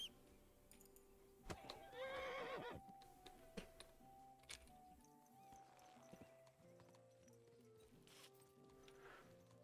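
A horse whinnies loudly near the start in the video game Kingdom Come: Deliverance II, followed by hoof clip-clops and scattered clicks against a low background, with no one talking.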